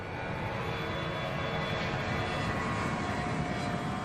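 Steady, loud roar of Donald Trump's Boeing 757 jet airliner, a continuous broadband engine and cabin drone with no break.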